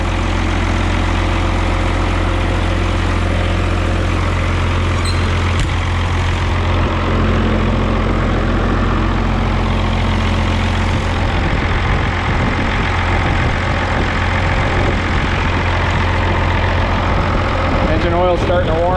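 A White 2-155 tractor engine idles while warming up, holding a deep, steady low-pitched drone throughout with someone talking over it.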